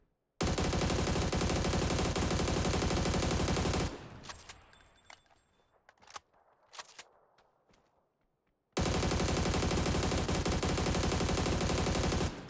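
A gun fires full auto in the video game PUBG, a loud continuous burst of rapid shots lasting several seconds, then a pause with faint clicks and rattles before another long sustained burst.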